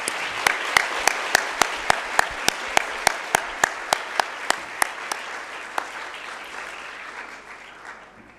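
A crowd applauds with a steady, rhythmic clapping beat that fades toward the end, loud and close over a soft wash of hands.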